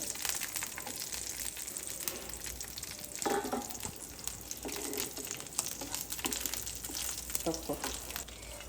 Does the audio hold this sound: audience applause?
no